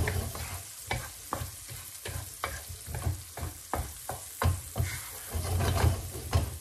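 Cauliflower rice frying in a pan is stirred with cumin, ground coriander and turmeric. Rhythmic scraping strokes sound about every half second over a continuous close sizzle, and no one speaks.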